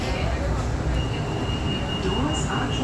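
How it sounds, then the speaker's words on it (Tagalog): Steady low rumble and rattling hum inside a Singapore MRT train, constant throughout, with faint high squeal near the end. "Dito na tayo sa loob na MRT."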